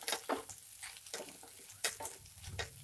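Fish roe frying and being stirred in a pan, a soft steady sizzle broken by scraping stirs at close range, with no talking.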